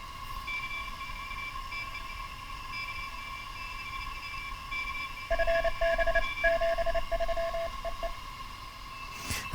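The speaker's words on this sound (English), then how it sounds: "That's how you listen to CW." Morse code CW tones come through a restored 1940s receiver: a steady whistling carrier, then keyed dots and dashes in a brighter pitch, all over a bed of radio static and hiss.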